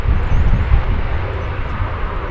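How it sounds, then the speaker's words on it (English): Frontier Airbus A320neo arriving from Phoenix, a loud, close low-pitched engine rumble with a buffeting wind-like texture, sustained and heaviest at the start. "Flight 3284 from Phoenix, an Airbus A320neo."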